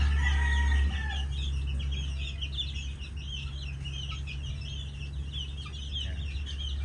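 Chicks being raised in a brooder peep continuously in a dense, overlapping chorus close by, with no talking over the steady high chirping.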